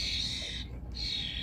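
Female starling begging to be fed, a harsh, rasping squawk that runs steadily, breaks off for a moment, then resumes close by over a low background rumble.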